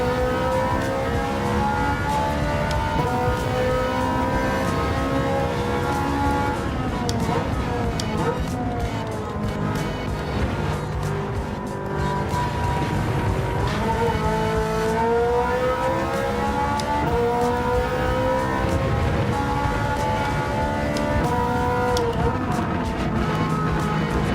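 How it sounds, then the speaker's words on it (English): Ferrari F40 engine in Gran Turismo 7, a loud sustained growl rising and falling through revs with shifting pitch sweeps, continuous and close, with someone talking intermittently over it. "I just love hearing that glorious motor that's right behind my head"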